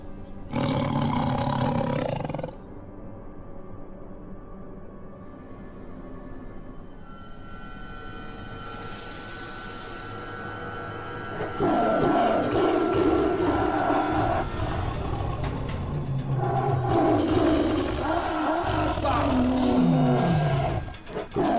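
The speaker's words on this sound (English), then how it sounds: "Cade fights this tiger for like a full minute" A tiger roars and snarls through a long fight scene in a film, deep growls sweeping in heavy bursts over a dense, loud soundtrack, with no talking.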